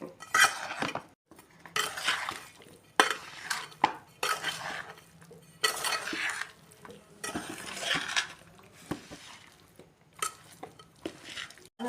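Lemon pieces being mixed with salt and chilli powder for pickle: repeated wet scraping and stirring strokes in bursts, with occasional utensil clinks against the bowl, close and quiet, no voices.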